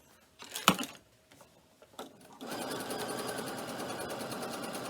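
A few sharp handling knocks, then a sewing machine top-stitching a cork messenger bag starts up and runs steadily at close range, loud and continuous to the end.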